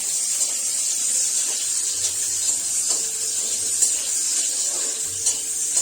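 Small pieces of dough frying in hot oil in a wok for a sesame hog-plum recipe: a steady, bright sizzling hiss with faint crackles and pops, even and continuous, without talk.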